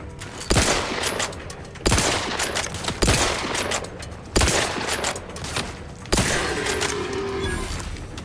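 Heavy gunfire bursts from a gun in The Outer Worlds 2, five loud volleys at roughly even intervals, each a dense sustained rattle that cuts off abruptly, with no talk.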